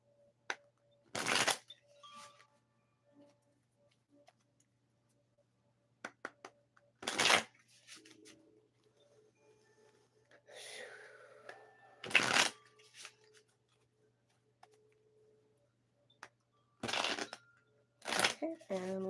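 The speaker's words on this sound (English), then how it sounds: "Then I'm going to shuffle 5 times when it says that it's done." Tarot cards shuffled in several separate short bursts, each a crisp riffling flutter, with quiet pauses between them and faint background handling, close and fairly soft.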